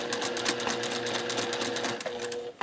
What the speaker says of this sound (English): We're just going to sew slow.